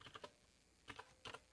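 Someone types on a computer keyboard, played as a sound effect: two or three short bursts of quick, soft key clicks at close range, with brief pauses between them.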